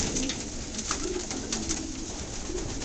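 Soft, low coos from young racing pigeons repeat faintly against a hissy background, with light fluttering and rustling close by.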